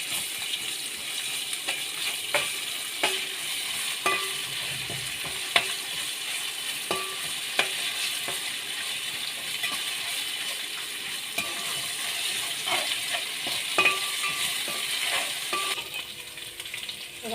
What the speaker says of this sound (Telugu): ఒకసారి కలిపి అల్లం ఎల్లిగడ్డ పేస్ట్, ఇది కూడా కలుపుకుందాం